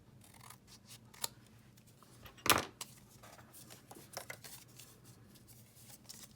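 Scissors trimming a small amount off each side of folded material, a sharp single snip standing out amid quiet handling rustles and a few lighter clicks.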